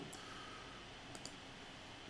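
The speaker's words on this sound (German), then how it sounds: "Ich klicke einfach drauf" Mouse clicks on a computer while tracing by colour in drawing software, a few faint, sharp clicks over steady background hiss, one early and a close pair later.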